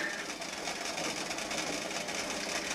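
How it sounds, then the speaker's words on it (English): A steady mechanical hum and whir runs continuously, a constant churning drone with no pauses. "Sorry about the noise, my washing machine's going,"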